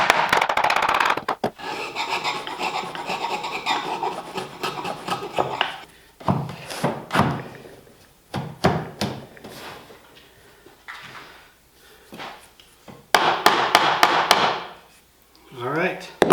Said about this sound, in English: I'm just gently tapping it because I want to see when I start to drive it in